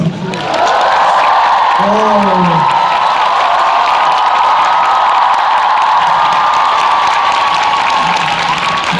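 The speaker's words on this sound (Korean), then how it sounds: "다시 한번 박수로." Concert audience applauding and cheering during a countdown ballad and musical show; a dense, steady wash of clapping and crowd noise runs throughout, with a brief voice or whoop near the start.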